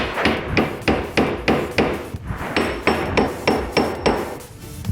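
Steady hammering of silver on a mandrel, about a dozen sharp ringing blows in an even rhythm, close and loud, with a bright metallic ring on the later strikes.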